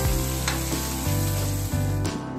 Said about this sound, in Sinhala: අපි වේලිච්ච මිරිස් ටික දාගන්න හොඳට කලවම් කරන්නයි තියෙන්නේ